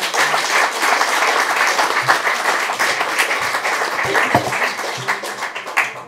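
Audience applause for the speakers at a philosophy club meeting in Lublin, a steady, dense round of clapping from a room of listeners lasting several seconds with no talk over it.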